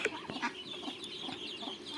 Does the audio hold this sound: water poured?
no